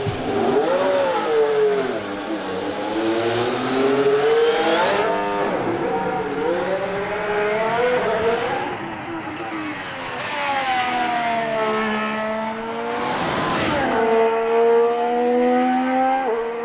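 Formula 1 car on full wet tyres during winter testing at Barcelona, its engine a loud, sustained high-pitched whine with rising and falling pitch sweeps as it accelerates and shifts through gears, heard close and alone.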